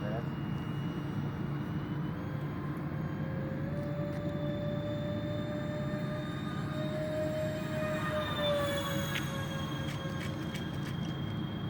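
Dynam Turbojet 550 RC Cessna Citation model jet making a slow pass with full flaps, a steady electric ducted-fan whine and rushing drone that rises slightly as it passes, with a pitch glide near the end.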